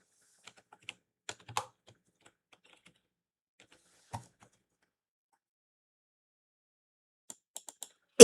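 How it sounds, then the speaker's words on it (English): Scattered keystrokes on a computer keyboard come in short isolated taps with long quiet gaps between them, then a quick cluster of clicks at the end, close and crisp. "Let me just type it out here."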